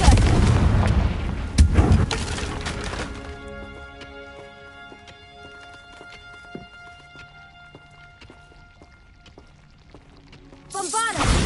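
Confringo explosion spell in Hogwarts Legacy: a loud blast and crackle at the start, then a long fading ring of magical tones, and another sharp burst near the end.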